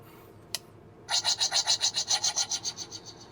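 A single sharp click, then a rapid electronic warbling effect pulsing about a dozen times from an Ultra Replica Ultraman Taro 50th Anniversary transformation device toy, bright and close, fading slightly toward the end.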